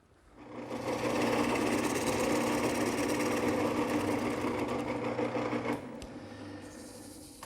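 A wood lathe spins a wooden bowl while a 1/2-inch bowl gouge cuts away material inside, giving a loud, steady droning whir that runs for several seconds, then drops off to a quieter hum near the end.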